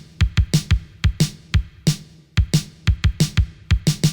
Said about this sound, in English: Then I'm going to go ahead and add a kick to complement the snare.